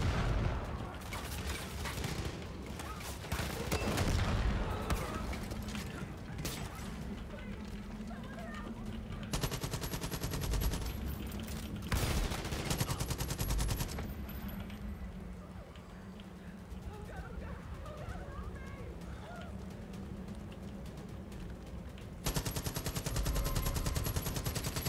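Gunfire in Far Cry 5's Arcade mode, bursts of shots scattered through a long stretch of game noise, fairly quiet, mixed in with someone talking.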